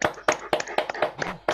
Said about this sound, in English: we'll give them a round of applause that maybe they can hear